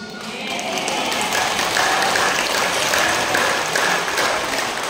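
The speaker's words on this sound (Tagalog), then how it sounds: "Mas maganda po yung palakpak para sa Diyos" A church congregation in Taal, Batangas applauding together as sustained, dense clapping that rises and holds at a steady loud level with no talk over it.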